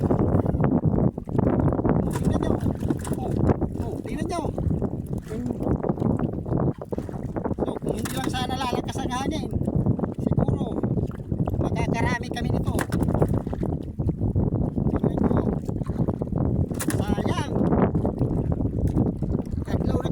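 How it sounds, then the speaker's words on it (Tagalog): Strong wind at sea buffets the microphone in heavy, roaring gusts aboard a fishing boat, with people talking throughout and occasional knocking sounds. "kaso lang mahangin, lalakas ng hangin"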